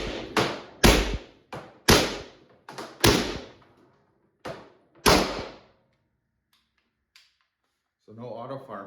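A Valken M17 paintball marker fires a string of sharp, close single shots at uneven spacing, each a hard crack with a short decay, and a voice starts speaking just after the last shot.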